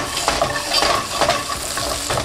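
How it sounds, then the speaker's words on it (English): Onions caramelizing in a pan with butter and a touch of oil over low-medium heat, a steady close sizzle with occasional stirring scrapes and clinks throughout, no talking. "we're gonna start by caramelizing the onions"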